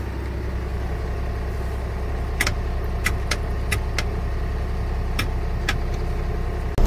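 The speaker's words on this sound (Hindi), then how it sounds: "तो चलिए गाड़ी को कर दिया हमने स्टार्ट" A truck engine runs steadily after being started for a road trip, a low continuous rumble with a few sharp clicks and rattles partway through.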